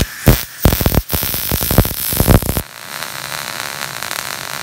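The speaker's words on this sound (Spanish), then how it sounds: "Seguimos soldándolo todo." Welding on steel hairpin table legs sounds as loud, harsh crackling bursts that sputter in uneven pulses, then stop and leave only a faint, steady background hiss.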